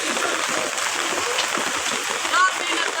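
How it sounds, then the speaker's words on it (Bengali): Flooded Khowai river in Habiganj rushes near a bridge in the rain, a broad, steady hiss of strong water current splashing continuously, loud and close. "দেখুন কী পরিমাণ পানির স্রোত"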